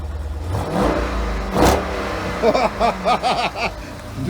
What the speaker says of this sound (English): Give her a little bark with the gas.